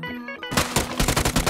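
Rapid automatic gunfire in a video game, with a burst of sharp, closely spaced shots right after a short quiet moment, loud and near, with no talk over it.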